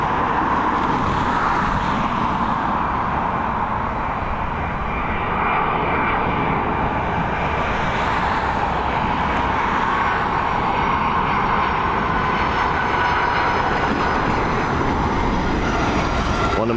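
A United airliner arriving at Dublin Airport, its engines roaring steadily as it passes, loud and sustained with a broad rumble and faint road traffic underneath.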